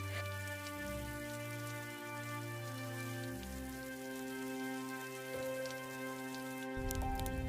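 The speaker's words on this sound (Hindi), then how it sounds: "लगातार होती बारिश ने गांव वालों को परेशान कर दिया।" Continuous rain falling on a village on a cold day, a soft, even patter that runs faintly throughout beneath a low sustained tonal drone.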